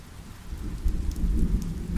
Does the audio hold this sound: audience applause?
no